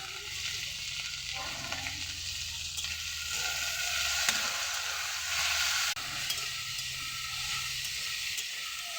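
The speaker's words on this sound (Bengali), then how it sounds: "এটা ভালো করে ভাজা করে নেব," Spices with salt and turmeric fry in hot oil in a pan, with a continuous dense sizzle and occasional scraping strokes of a spatula as they are stirred, steady throughout and close up.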